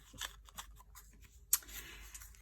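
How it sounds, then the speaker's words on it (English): Scissors snip through paper while trimming pieces for an Easter egg slider card, a few light close cuts with one sharper snip in the middle, alone without talk. "So you just want to cut across there."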